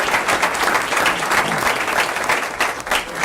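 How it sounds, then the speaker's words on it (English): A school board meeting audience applauds students honored as academic all-state, producing dense, steady clapping that fills the room loudly from start to finish. "So we give those guys a round of applause."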